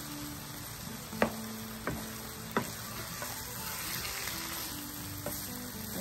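Tuna, red quinoa and vegetables sizzle in a frying pan, a soft steady hiss broken by three sharp clinks of a utensil scraping and stirring, fairly quiet and with no voices.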